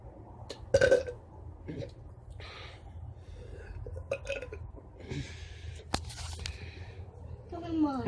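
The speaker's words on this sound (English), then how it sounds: "A big burp." A child lets out a loud burp after drinking soda, a short guttural eruption followed by smaller throaty sounds and breaths, with faint household background.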